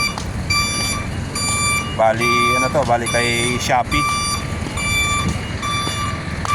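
Shopee logistics trucks reverse at a depot, sounding steady repeated electronic beeps, and a louder, harmonic alarm-like tone swells in the middle. Someone talks over the noise.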